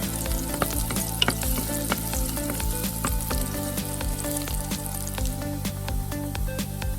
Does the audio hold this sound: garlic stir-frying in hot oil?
yes